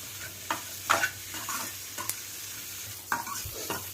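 Okra sautés and is stirred in a pan for puli kulambu, with a soft steady sizzle under scraping stirs and clicks of a spoon against the pan.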